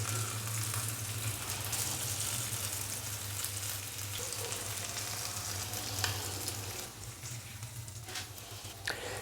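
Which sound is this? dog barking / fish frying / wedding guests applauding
fish frying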